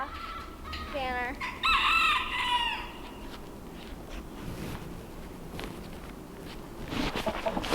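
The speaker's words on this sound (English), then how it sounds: "Our chickens get all confused when we feed them inside, so we'll feed them outside" Backyard chickens clucking with a short rooster crow near the start, then scattered clucks and footsteps on the ground, quiet and close.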